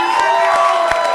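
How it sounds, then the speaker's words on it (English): An audience at a press-versus-politicians spelling bee cheers and applauds the winner, a loud, dense wash of clapping with whoops and shouts, close and sustained across the whole moment. "let's give a big round of applause to Don"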